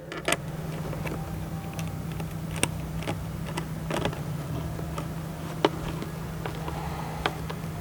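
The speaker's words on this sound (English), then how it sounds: "we're going to use the 5/16 nut driver, and we're going to go ahead and tighten up this clamp right here" A 5/16 nut driver tightening a hose clamp on a cold air intake for a 2012-18 Jeep Wrangler JK 3.6L: faint, scattered metallic ticks and small creaks over a low steady hum, with no talking.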